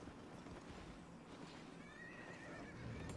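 An armored war horse mount in the video game Albion Online whinnies with a rising, wavering neigh over a steady background hum, with faint hoof clops.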